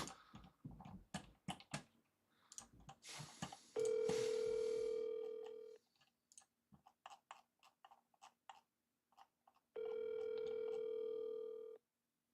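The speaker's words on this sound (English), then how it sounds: "I'm just going to start to dialing." A telephone dial tone sounds twice, each a steady tone lasting about two seconds, separated and preceded by bursts of quick clicking keypresses while dialing a call.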